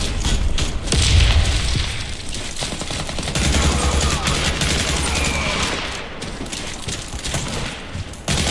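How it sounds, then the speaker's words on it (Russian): A grenade goes off with a deep boom amid continuous rapid gunfire during a Warface match with an AR-15, loud and dense throughout, with a second heavy thud shortly after. "Осторожно, граната!"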